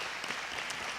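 Audience applause fills a hall after a group talk about an adventurous trip, steady broadband clapping throughout with no voices heard over it.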